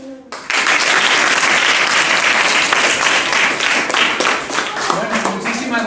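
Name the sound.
loud welcoming applause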